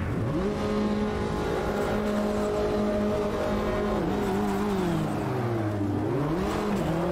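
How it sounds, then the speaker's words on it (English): A Mini Cooper in the rain-soaked racing game Automobilista 2 spins its wheels off the line, its engine droning loud and steady, then rising and dipping in pitch as it revs through the start. "A lot of wheel spin, but off we go."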